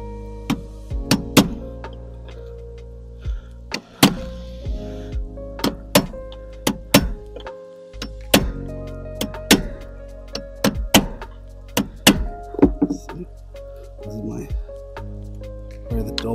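A dull chisel knocks out protruding shims on a piano-hinge door: a long run of sharp, close cracks and wooden thunks at an irregular pace, with a low background hum between strikes.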